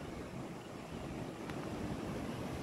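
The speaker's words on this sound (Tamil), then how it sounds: "இன்று பொறுத்தளவுக்கு காற்று வீசும் வேகம் அதிகமாக இருக்குது." Strong wind gusting through tall trees along a forest road in Kodaikanal, a steady, full-bodied roar of rushing air that holds throughout with no voices.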